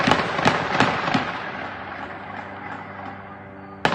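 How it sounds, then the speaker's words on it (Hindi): Gunfire from both sides in a conflict, several sharp cracks in quick succession at the start, then a decaying rumble and one more loud shot at the end, heard as played back from a news report, no voices. "दोनों तरफ से फायरिंग हो रही है।"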